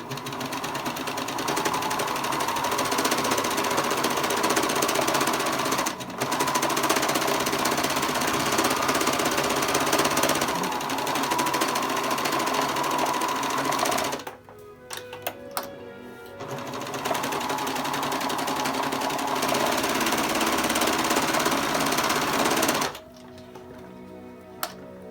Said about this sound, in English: just run it through the serger